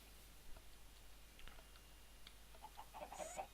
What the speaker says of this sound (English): I wanted to just spawn more chickens.